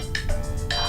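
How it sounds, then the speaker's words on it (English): A mobile phone ringtone chimes in two bright bursts of electronic tones, loud and close, with a brief gap between them. "That's my phone."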